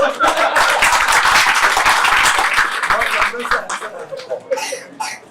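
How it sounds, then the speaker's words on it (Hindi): Enthusiastic audience clapping for a correct answer during a motivational talk, loud and dense for about three seconds, then tapering into scattered claps with some laughter and a cough. "जोरदार तालियां"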